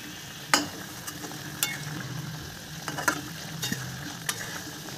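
A vegetable curry with thankuni leaves simmering in a pot and being stirred, heard as a soft bubbling sizzle with a few sharp clicks of the spoon against the pot rim; no talking.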